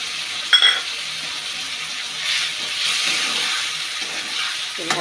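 Spices (cumin, ginger, chilli and turmeric) frying with salt in a pan give a steady close sizzle, with faint stirring scrapes and a few small clinks throughout.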